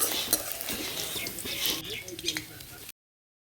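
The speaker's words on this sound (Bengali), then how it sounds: "পেঁয়াজটা ভালো করে নেড়ে চেড়ে ভেজে নিচ্ছি" Onion being stirred and fried in a wok, with steady close scraping and stirring over a continuous sizzle and occasional clinks of the utensil against the pan.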